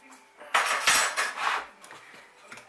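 A metal teaspoon scoops and scrapes fish blood and bone fertiliser while potting a Phaius tankervilliae orchid, giving a few sharp, close clinks and scrapes in quick succession, then quieter taps.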